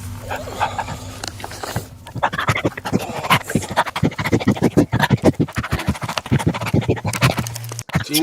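A person imitates a dog sniffing right up against the microphone, with rapid, rhythmic snuffling bursts and breathy pants that run loud and close for several seconds.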